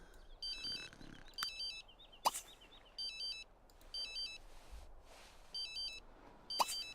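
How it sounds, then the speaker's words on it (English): A phone in The Sims 3 video game rings with a repeating electronic ringtone in short, evenly spaced bursts, faint and alone with a few soft clicks between rings. "Answer your phone."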